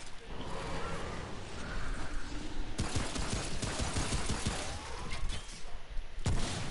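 Enemy gunfire in Remnant on hardcore, hard difficulty, coming as a dense, continuous stream of rapid shots and impacts with heavier bursts partway through, loud and close throughout.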